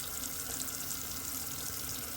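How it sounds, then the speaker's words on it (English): A water tap left running fills the space with a steady, even hiss of flowing water, moderately loud and unbroken, with no voices. "Sorry I left the water on."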